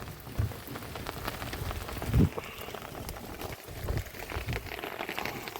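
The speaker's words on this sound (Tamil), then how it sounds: "நேற்று காலையில் ஆரம்பித்த மழை இன்னும் விடாமல் பெஞ்சிக்கிட்டு தான் இருக்குது" Heavy rain falls steadily in Keluvathur after raining all night, a dense patter of drops on a surface with occasional louder splashes, continuous throughout.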